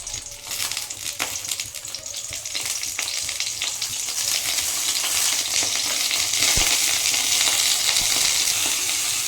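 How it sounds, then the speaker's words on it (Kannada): Tomatoes fry in a couple of spoons of oil in a pan for a grandmother-style tomato chutney, giving a steady, close, dense sizzle that swells slightly louder toward the end, with no talking over it. "ಇದು ಚೆನ್ನಾಗಿ ಟೊಮೆಟೊ ಹಣ್ಣು ಇದರಲ್ಲೇ ಫ್ರೈ ಆಗಬೇಕು."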